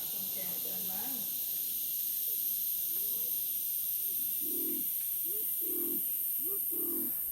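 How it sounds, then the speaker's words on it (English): Wild jungle fowl in a Thai forest in Uthai Thani gives a series of short, rounded calls, repeated about four times in quick succession, mid-distance over a steady high insect drone. "Looks like a chicken, but like it looks like a wild chicken."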